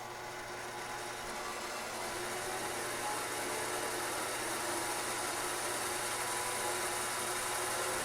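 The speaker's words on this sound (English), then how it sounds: "So now we'll get it back over to the lathe, and what I'm going to do is I'm going to spin it backwards" A lathe runs in reverse while threading an all-thread coupling nut, giving a steady, unbroken mechanical hum and whir heard up close for the whole stretch with no talking.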